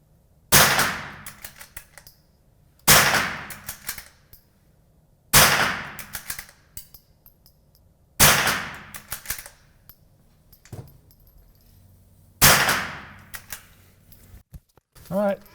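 Five loud, sharp unsuppressed gunshots from a .223 bolt-action rifle fired outdoors, spaced roughly every two to three seconds, each a sudden crack with a short decaying tail, with faint handling noise between shots.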